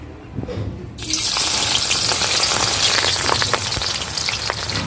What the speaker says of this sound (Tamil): நறுக்கி வச்சிருக்கிற பூண்டையும் இந்த வெங்காயத்தையும் இந்த ஆயிலில் போட்டு ப்ரௌனாக எடுத்துக்கலாம்.